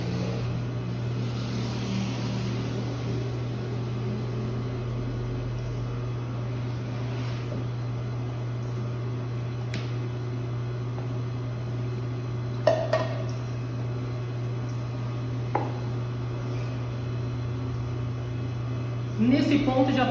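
A dough mixer churns basic savory bread dough with a constant low motor hum and faint rumbling, with a few brief clanks and knocks.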